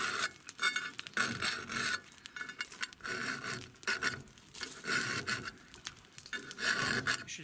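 Rhythmic rasping strokes of a 5.5 mm round file sharpening a chainsaw chain, steady repeated passes close up with short pauses between bursts, no talking.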